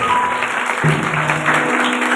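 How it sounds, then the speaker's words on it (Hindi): A church congregation claps loudly and steadily throughout, a dense wash of hands with a faint tone humming underneath. "जोर से ताली बजाइए।"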